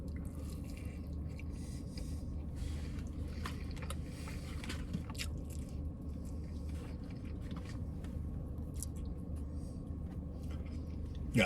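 Crunchy KFC fried chicken is bitten and chewed close up, with faint wet crunches and squishy mouth sounds repeating over a low background hum.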